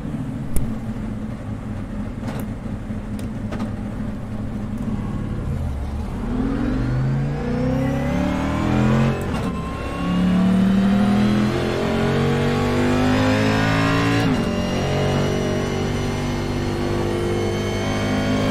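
A race car with a stiffer rear spring fitted runs on a track, its mid-pitched engine revving up and down through gear changes, loud and close, climbing in pitch as it accelerates, with no talking.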